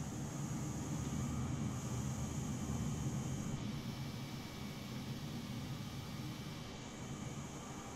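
Aircraft engine roar in Microsoft Flight Simulator 2020 as a plane is landed manually near Area 51, a steady broadband drone with no talk.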